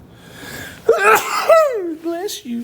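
A single sharp sneeze bursts out in a classroom during a math lesson, loud and close, with a person talking over and after it.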